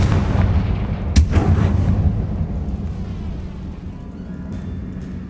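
A loud, close blast from the Confringo spell in Hogwarts Legacy: a heavy booming explosion with a sharp crack near the start, then a rumbling decay that fades over several seconds.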